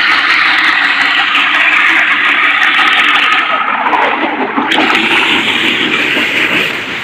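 Single-piston car washing machine spraying water from its nozzle, a loud, steady hissing jet that runs continuously with a slight shift in tone midway.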